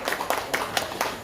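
Applause from an audience at a children's reading talk show event in Bekasi, heard as a short burst of loose, rhythmic clapping, moderately loud and close.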